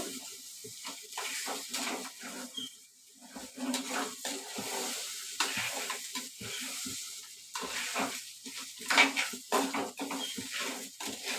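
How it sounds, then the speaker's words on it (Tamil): Crab masala gravy is stirred in a pan for a home-style crab curry, with repeated scraping strokes of a spoon against the pan over a sizzling fry, close and steady throughout. "நண்டு போட்டுட்டு இதில் நல்லா மசாலா சேர அளவுக்கு நல்லா கிண்டி விட்டு"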